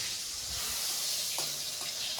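Eggplant frying in hot oil, a steady bright sizzle and hiss that holds at an even level, close and continuous, with no voices.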